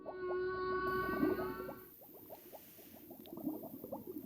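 A whale calling underwater in a series of short repeated moans and chirps with a steady rhythm, first over a bright sustained tone and then more sparsely and faintly.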